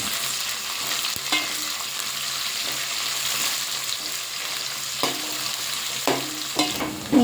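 Sliced onions sautéing in a pan for Dindigul Thalappakatti chicken biryani, a steady close sizzle with occasional scraping stirs and clinks of a spoon against the pan, no voices.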